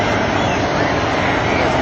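A Sikorsky H-34 helicopter flies at the Jones Beach airshow, a steady broadband engine and rotor drone heard at a distance, moderately loud and unbroken through the short stretch.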